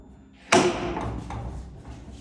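A press mold slamming shut before pouring, with one loud heavy metallic thud that rings out and decays, followed by a couple of faint knocks.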